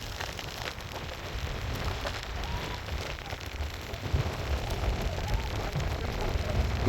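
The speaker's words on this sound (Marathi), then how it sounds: "हा, आणि एवढा पाऊस बिऊस पडतोय, त्यात मी व्हिडिओ काढतोय." Heavy rain pours steadily on Raigad, a hissing broadband wash with strong wind gusting through it, continuous and close, with no talking.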